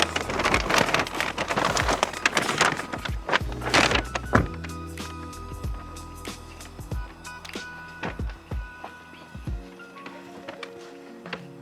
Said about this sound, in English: It's just starting bucketing with rain.